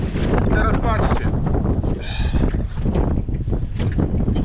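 A MotorGuide Xi3 electric trolling motor on a fishing boat holds position on GPS anchor in cold winter weather, its soft whirring whine rising and falling beneath constant gusty wind buffeting the microphone.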